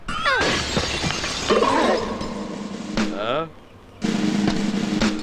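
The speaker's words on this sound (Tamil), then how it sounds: "யாரா கண்ணாடி உடைச்சது?" A loud crash of window glass shattering after being hit by a thrown stone in a Tamil film comedy scene. Voices shout around the smash, followed by tinkling debris and a sudden pause.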